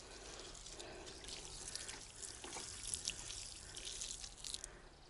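Water being poured outdoors on a summer evening in a village: a faint, continuous trickle and splash with small irregular drips, quiet and steady throughout, with no talking.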